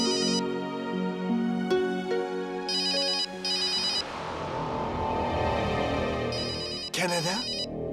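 A mobile phone rings loudly with a repeating electronic ringtone in a dubbed Indian family drama, the tone pulsing in bursts while people talk over it.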